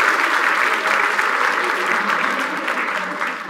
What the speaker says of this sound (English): So can we have a round of applause for the marketing team?